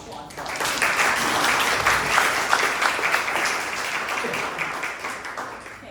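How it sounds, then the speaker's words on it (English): Audience applause at a county board of education candidates forum, a steady wash of many hands clapping for several seconds at moderate loudness, with some talk mixed in. "We can applaud."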